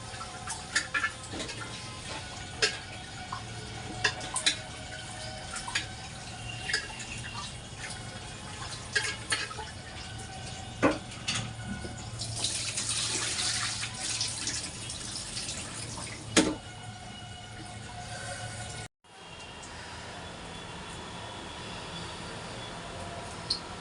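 Rice is rinsed under running tap water in a home kitchen before cooking: a steady wash of water with scattered drips, clicks and grain-stirring knocks, then a brief cut near the end, with no talking.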